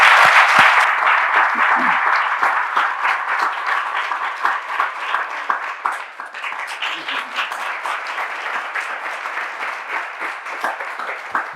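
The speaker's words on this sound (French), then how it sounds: "Pendant que vous l'applaudissez, qu'elle entre sur le plateau" Studio audience on a French talk-show set applauds as a guest's wife walks on, with loud continuous clapping that starts dense, then thins slightly into a steadier, more scattered patter.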